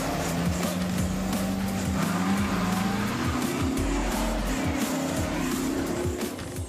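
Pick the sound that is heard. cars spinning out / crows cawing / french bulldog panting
cars spinning out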